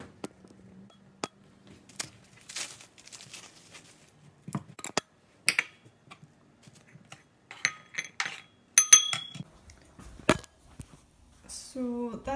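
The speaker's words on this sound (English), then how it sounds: "I'll let that heat up while I start cutting up the onions." A knife chops onions on a cutting board in a home kitchen, giving scattered irregular taps and clicks at close range, with small clinks of utensils and a brief scraping sound near the end.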